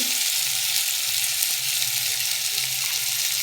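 Rohu fish fries in a pan with salt and turmeric, giving an even, close-up sizzle that holds steady throughout with no talking.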